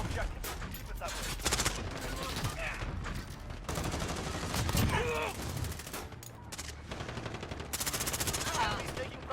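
Video game gunfire in a multiplayer match on PS5, rapid bursts of automatic weapons and scattered shots fairly quiet in the mix, with in-game voices calling out between volleys.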